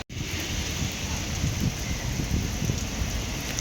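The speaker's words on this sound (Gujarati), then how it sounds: "ફૂલ વરસાદ ચાલુ થઈ ગયો ભાઈ." Heavy rain pours steadily on a farm in Gujarat, a dense, continuous hiss with low patter and no break after a brief silence at the start; no voices are heard over the downpour.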